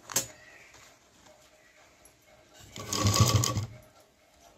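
A sewing machine stitching piping onto fabric for a tiffin lunch bag, a faint steady whir that swells into a louder run of stitching near the end.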